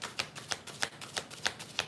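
Tarot cards being shuffled, with a steady run of about six crisp riffling bursts evenly spaced, close and clear with no talking.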